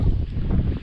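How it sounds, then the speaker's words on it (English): Strong wind buffets the microphone on a lake while fishing from a boat, a brief, steady low roar of gusting wind noise with no voices. "y'all can see the wind is just ridiculous"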